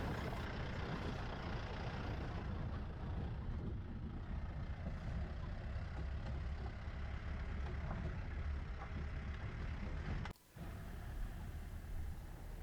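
An open-top safari jeep with a canvas roof rolls along a jungle road during the monsoon, its engine making a steady mid-range rumble with constant road and wind noise, broken by a brief dip near the end.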